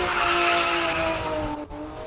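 A classic race car at a Cape Town hillclimb roars loudly and steadily as it launches, a sustained close engine note with a sharp dip near the end.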